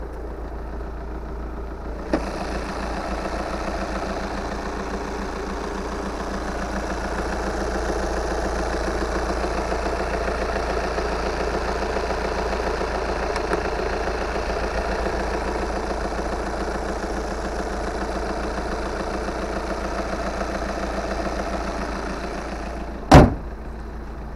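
A 2012 Volkswagen Passat CC engine idles steadily and evenly for a long stretch, with a low rumble, ending in a sharp clunk like a door or hood closing.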